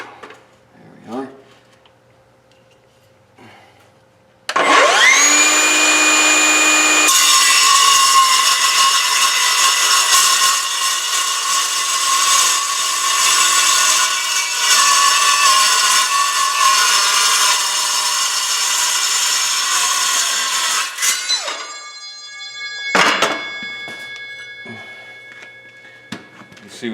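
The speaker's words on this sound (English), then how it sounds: "that's a nice straight cut and it's cold. You know, that's one nice thing about these saws." A metal-cutting cold saw slices through a steel mounting plate for a 2010 International 4300 axle move: a loud, steady high-pitched whine runs for about sixteen seconds, then spins down, with brief clicks and someone speaking before and after.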